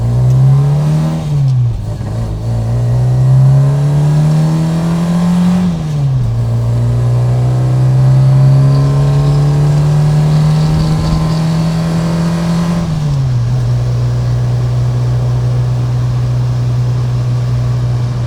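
An MGB fitted with a supercharged B Series engine pulls away hard at dusk, its loud droning note rising through the revs and dipping at each of several gear changes over a long stretch of driving.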